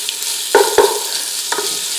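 Food fries in a pot with a low steady sizzle, broken by two quick clattering stirs early on and another brief scrape near the end.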